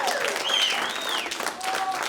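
An audience at a stand-up comedy show claps in a sustained burst of applause, with whoops and cheers rising over the clapping.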